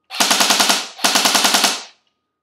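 Two rapid full-auto bursts from a Lancer Tactical LT-06T M4A1 airsoft gun, its battery not fully charged, each a loud, close stream of about eight quick snapping shots with a brief pause between bursts and no talking.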